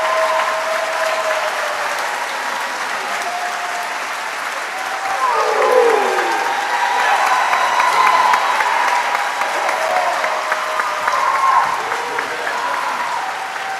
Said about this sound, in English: Let's have another huge round of applause for the Cordova High School